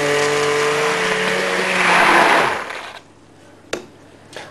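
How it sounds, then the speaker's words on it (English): An electric blender whirs loudly while mixing Yorkshire pudding batter of milk and water, winding down after about two seconds, then a couple of sharp knocks follow in near quiet. "Once I've done that, I'm going to mix it all up with this blender."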